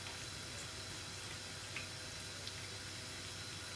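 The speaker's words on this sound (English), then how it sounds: "just take the color, the zucchini, in one side, and we wait that another side is frying" Zucchini fritters fry in a pan, producing a steady, faint hiss of sizzling oil with a few small pops, continuous and without talk.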